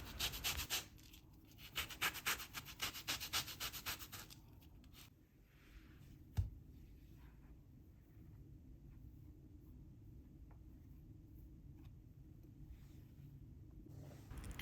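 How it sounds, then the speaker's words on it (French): Orange zest being grated for juice biscuits, a quick run of scraping rubs close to the microphone for a few seconds, then stopping, followed by quiet room noise. "Ajoutez le zeste d'une orange de taille moyenne, une orange bio si possible"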